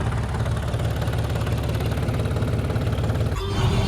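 A loaded tractor's engine idles with a steady, throbbing low rumble, close by, then shifts briefly near the end.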